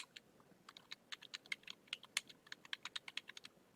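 Quick, light clicks of fingers typing on a computer keyboard, a rapid irregular run of distinct close keystrokes at low volume with no talking.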